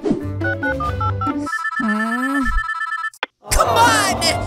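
A phone ringing in the Roblox Brookhaven roleplay game, a repeating electronic ringtone pattern heard loud and close, mixed with game music and sounds, then a brief pause and another burst of noise.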